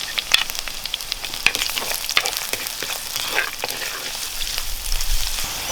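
Green chillies fry in hot oil in a pan with a soft steady sizzle, broken by scattered sharp pops and the clack of a stirring spoon.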